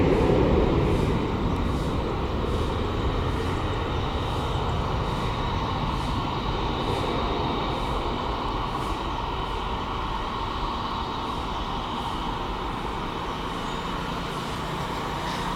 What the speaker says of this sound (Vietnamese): Và đây là chiếc máy bay đầu tiên cất cánh trong khung giờ của chúng ta.